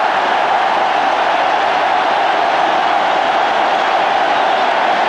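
Steady roar of a large cricket crowd in jubilation after a bowler shatters the stumps in a 1996 South Africa versus Pakistan match, a dense, continuous wash of cheering with no break.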